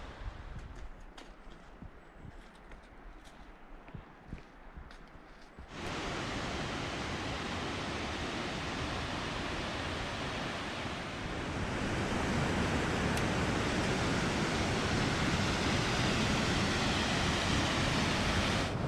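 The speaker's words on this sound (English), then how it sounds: "Really incredible waterfall right here by the trail." Mist Falls, a waterfall beside the trail in Kings Canyon National Park, roars as a steady, broad wash of rushing water that starts abruptly and stays loud and unbroken, with no voices.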